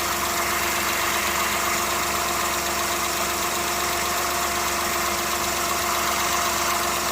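A car engine idles with its speed nudged up to about 900 RPM, a steady, close mechanical hum with a faint rhythmic vibration that holds even for the full stretch.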